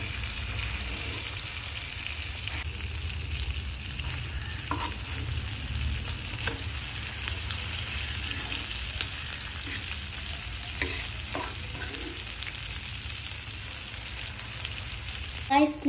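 A one-kilo lobster fries in masala in a pan, with a continuous bright sizzle and occasional soft scrapes and knocks from stirring, heard up close with no talking.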